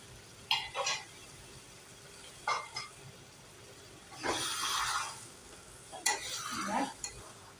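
Water splashes into a sizzling bottle gourd curry in a pan, with several bursts of sizzling and stirring scrapes separated by quieter moments, and no talking.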